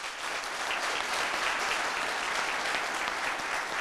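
Steady, full applause from a studio audience at a youth event in Koumassi, continuous and fairly close throughout with no pauses.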